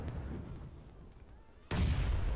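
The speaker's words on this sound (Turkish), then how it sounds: "El bombası atıyorlar abire" A grenade blast in PUBG Mobile, heard as a sudden loud low boom that cuts in after a stretch of quieter rumbling game noise.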